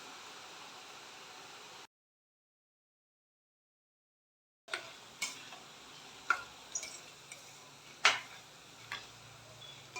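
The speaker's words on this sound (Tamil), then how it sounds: "எண்ணெய் நல்லா சூடானதும் இந்த மாதிரி ஒரு கண்ணு கரண்டிலேயோ இல்லைன்னா இந்த மாதிரி பூந்தி கரண்டிலேயோ மாவை விட்டு நம்ம பொரிச்சு எடுத்துக்கலாம்" Boondi batter dropped through a perforated ladle into hot oil, frying with a steady hiss and a run of sharp crackles and pops. A short silent gap breaks it up, and the crackles return louder and more irregular.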